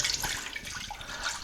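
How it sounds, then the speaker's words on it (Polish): One glass of soy drink pouring steadily into a pot during vegan no-bake fruit tart prep, a continuous close liquid splashing and gurgling with no talk. "Nalewamy napoju sojowego jedną szklankę"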